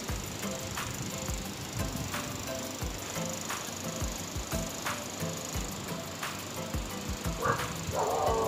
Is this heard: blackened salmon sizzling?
no